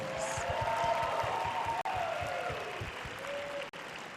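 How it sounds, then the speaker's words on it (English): Applause from a pageant audience for contestants after a swimsuit competition at Reno Tahoe, a steady wash of clapping filling the whole stretch, with a faint voice or tone drifting over it. "Let's give all the contestants another big round of applause."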